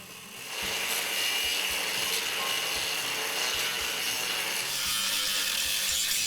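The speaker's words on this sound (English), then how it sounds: "I'll cut the bottom first, and I'm going to be going in the groove like this" A square-body 1973-87 Chevy/GMC truck frame being cut along marked lines with a power tool, a continuous loud grinding, rasping cut running steadily after a brief start.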